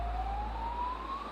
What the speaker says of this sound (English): We're hearing the air raid sirens as we enter Kharkiv